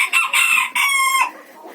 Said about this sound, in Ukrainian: такий півничок, оцей червоненький